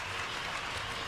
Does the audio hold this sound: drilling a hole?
no